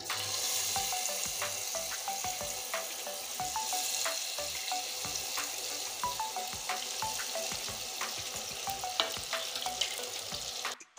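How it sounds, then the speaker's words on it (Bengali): Turmeric- and salt-rubbed rupchand (pomfret) fish fry in mustard oil with a steady, close sizzle and crackle, broken by occasional tapping of a utensil. "এখন আমি মাছ তেলে ছেড়ে দিচ্ছি।"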